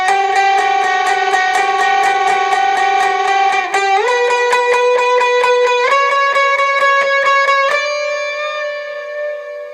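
An electric guitar plays the interlude of a song, with clean sustained notes that slide up the neck in steps, played loud and alone, each note ringing before the next slide.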